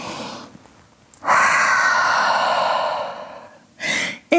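A long, deep audible exhale during a vinyasa yoga flow, rising sharply and sustained for about two seconds, framed by softer breaths before and a brief second breath at the end; no talking.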